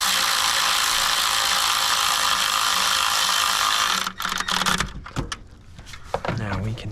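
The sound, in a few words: ratchet tightening valve cover bolts on Nissan 4.0 engine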